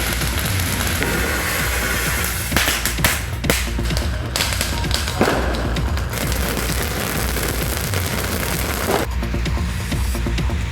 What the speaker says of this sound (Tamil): நெல்லையில் லேசான சாரல் நீடித்த போதும் குடைபிடித்தபடியே மக்கள் பட்டாசுகளை வெடித்தனர்